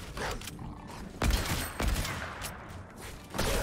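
Gunfire in Fortnite Battle Royale: a few sharp, loud shots burst out around the middle, with softer game noise around them.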